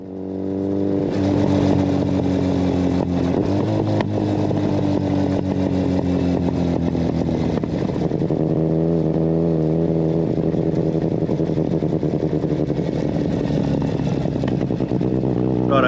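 A Kawasaki Z900RS with Leo Vince headers rides past at close range, its engine rising and falling through steady revving and acceleration, loud and continuous without talk.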